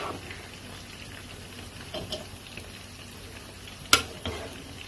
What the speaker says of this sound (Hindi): ये भी मुझे इस चम्मच से बड़ा परफेक्टली मुझसे मिक्स होता है